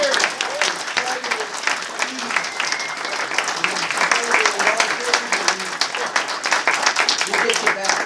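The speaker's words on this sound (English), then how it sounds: "Round of applause for Justin first." An astronomical society's annual awards night, with the audience breaking into sustained, lively applause that runs steadily throughout, mixed with cheers and voices in the crowd.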